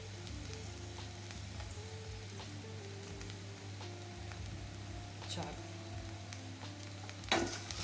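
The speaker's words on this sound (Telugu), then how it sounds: "ఇప్పుడు మళ్ళీ ఒక్క ఐదు నిమిషాలు ఈ ఉప్పు అంతా కరిగే వరకు వేయించుకోవాలండి" Okra frying with salt in a pan gives a soft, continuous sizzle with occasional stirring scrapes, faint and close, under a steady low hum.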